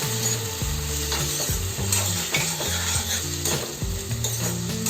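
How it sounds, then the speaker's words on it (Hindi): Green chilies and tomatoes frying in a pan, with a steady sizzle beneath repeated scraping and knocking of a spatula stirring against the pan, close up and with no talk. "2-3 हरी मिर्चें और टमाटर, ये भी डालकर थोड़ा सा भून लेती हूँ।"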